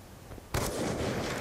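A single sniper rifle shot in Black Ops 2 from a DSR-style bolt-action rifle, a sharp loud crack after a quiet moment, followed by a sustained rumbling tail.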